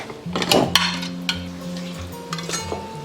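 Pork ribs marinated with salt, sugar, white pepper, cooking wine, soy sauce and oyster sauce being mixed by hand in a bowl: close wet squelching and a few light clinks over a steady low background hum.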